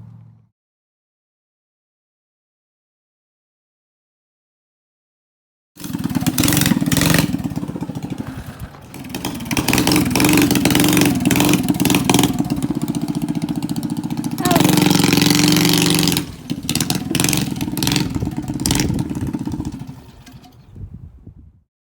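A homemade scooter's small gas motor, just back in working order after a bad-fuel fault, sputters to life after a silence, then runs loud and close with buzzing revs rising and falling for about fifteen seconds.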